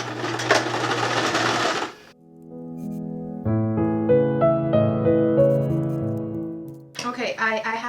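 A sewing machine stitches through several layers of tulle for a doll dress, its motor running in a steady hum for a couple of seconds, then stopping; a voice talks around it.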